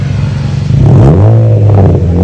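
A car with its resonator removed revs its exhaust, building from a low idle into one loud, deep, rasping rev, heard close up.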